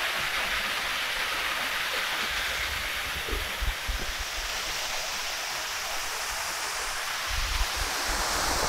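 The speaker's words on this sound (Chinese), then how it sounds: "一个小小的瀑布" Small waterfall at an abandoned shrine in Japan among pine trees, a steady broadband rush of falling water filling the scene at close range, continuous and even with no voices.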